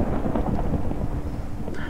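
A Minecraft thunderstorm rumbles low and continuously with heavy rain hissing over it, as lightning strikes a house with a wooden roof, the whole mix steady and close.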